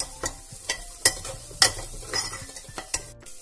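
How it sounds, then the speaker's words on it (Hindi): Onions frying with turmeric and chili powder, stirred in a pan for samosa filling: soft sizzle beneath a series of sharp spoon-on-pan scrapes and taps every half second or so, close and alone. "उसमें आप डाल दीजिए हल्दी, हमारा मिर्ची पाउडर और फिर इसे अच्छे से मिक्स कर दीजिए।"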